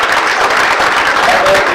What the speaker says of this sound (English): If you would just give them one last round of applause.